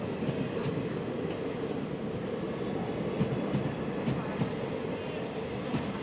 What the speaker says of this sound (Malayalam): ആ ഉന്നാവോയിലുള്ള റെയിൽവേ സ്റ്റേഷനാണിത്